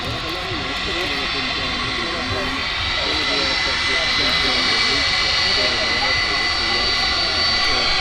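Rolls-Royce RB211 engines on a 29-year-old Boeing 757 roar continuously at Manchester Airport, a loud, sustained jet drone that builds slightly over the span.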